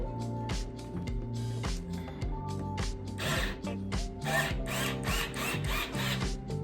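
A power drill drives a screw into wood in repeated short whirring bursts, its motor pitch rising and falling as it drives in, with brief pauses between runs.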